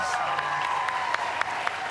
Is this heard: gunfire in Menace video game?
no